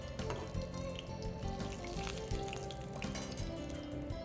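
Whole spices, including mace and cardamom, fry in hot oil in a pan, giving a steady, close, dense sizzle and crackle that runs unbroken throughout with no voices.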